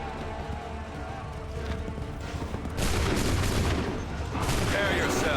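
A musket volley in Assassin's Creed 3 erupts as a loud, crackling burst of many shots at once, then a second volley follows moments later over background clamor and commands.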